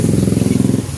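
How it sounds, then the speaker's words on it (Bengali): A motor vehicle, probably a motorcycle, passes outside with a steady low engine rumble and clatter, fairly loud and close for about a second, with no talk. "গাড়ির আওয়াজে কিছু শোনা যায় না বন্ধুরা,"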